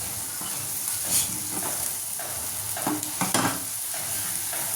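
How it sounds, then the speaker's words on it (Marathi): Matar bhaji masala sautéing in oil over low heat, a soft steady sizzle with occasional stirring scrapes and small bursts of crackle. "छान असं परतून घ्यायचं आहे. मस्त तेल सुटले."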